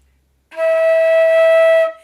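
A single sustained flute note, E natural, clear and steady, held for over a second before stopping cleanly; no voices.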